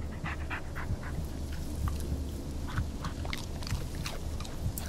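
Bullet the dog pants in quick, steady breaths within a Blair Witch video game scene, a soft rhythmic panting over a low rumbling ambience with a few faint clicks.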